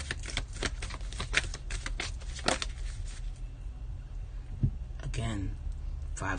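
Tarot cards are shuffled by hand in a quick run of crisp riffling clicks and flutters that later thin out, with light breathy sounds near the end.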